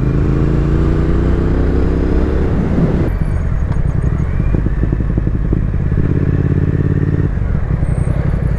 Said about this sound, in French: L'échappement, puisque je l'entends là, oui, il fait un petit peu de bruit, on l'entend grommeler